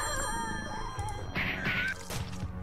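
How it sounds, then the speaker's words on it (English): An old-style telephone rings inside the horror puzzle game Slayaway Camp, a short bright ringing burst set against steady game music, with dull thuds and crashes around it. "I am going to ring the phone"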